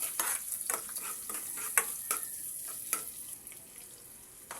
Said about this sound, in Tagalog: Gigisa tayo ng ating kamatis. Gigisa tayo ng bawang.